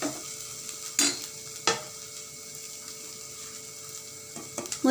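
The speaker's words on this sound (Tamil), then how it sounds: "முருங்கைக்கீரையை இதோடு சேர்த்து வதக்கி விட்டுக்கலாம்" Drumstick leaves are stirred and sautéed with banana flower in a pan, with a soft steady sizzle broken by a few sharp scraping stirs of the spatula against the pan.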